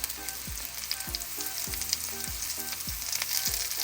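Onions frying in a pan until browned with curry leaves and salt, soft steady sizzling with repeated stirring scrapes every half second or so, fairly quiet and close.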